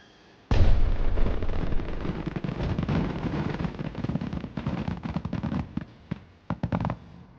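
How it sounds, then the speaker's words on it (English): A dense barrage of fireworks at the Enoshima Fireworks Festival starts abruptly and rumbles on continuously, loud booms and crackles overlapping, with a few sharper separate pops near the end. "Today's the Enoshima Fireworks Festival."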